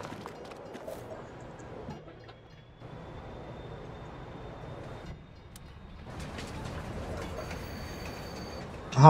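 A train moving in the Farming Simulator 22 video game, with a steady rolling rumble and a faint high wheel whine running throughout, growing slightly louder toward the end, with no talk.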